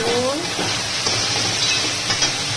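Taro greens cooked with a hilsa fish head sizzle loudly in a pan while being stirred, giving a close, continuous frying hiss with scraping movement throughout.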